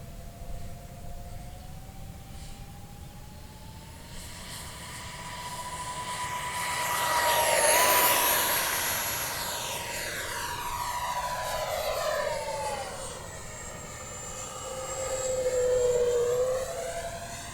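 An XFly F-18 Hornet RC jet with twin 40mm electric ducted fans flies by in a high, whining rush that sweeps up and down in pitch, growing loud around mid-pass, fading, then swelling again on another pass.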